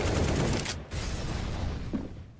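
Sustained automatic gunfire sprays through a smoke grenade in a Counter-Strike match, a dense, loud rattle of rapid shots that briefly cuts out before resuming and fading.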